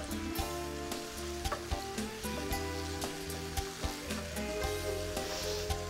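Steak and onions sizzle in butter in a pan, a steady close frying hiss with intermittent taps and stirring, and no talking.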